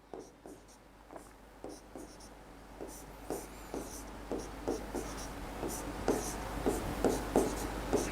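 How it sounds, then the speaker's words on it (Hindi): Chalk or marker writing on a board during an organic chemistry lecture, steady rhythmic strokes and taps growing slightly louder, with a teacher's voice speaking Hindi intermittently. "और एक मैं यहां पे लिखता हूं"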